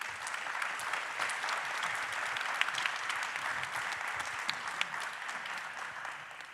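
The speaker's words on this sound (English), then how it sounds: "So a big round of applause" Steady applause from a crowd at a global forum plenary session, continuous clapping at an even level for several seconds with no voices over it.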